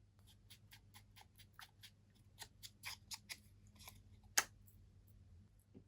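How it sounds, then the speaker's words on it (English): Scissors cutting paper pumpkin shapes out of a watercolor sheet, a quiet, close series of crisp snips in an uneven rhythm, with one sharper click near the end and no talking. "next I will be cutting them off the paper"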